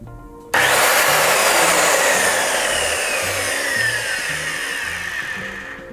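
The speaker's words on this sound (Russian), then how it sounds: "для работы первое, что понадобится, это включить пилу в сеть" Corded Makita HS6100 165 mm circular saw switched on abruptly, its blade whining loud and steady close by, then slowly easing as it keeps running with no talk.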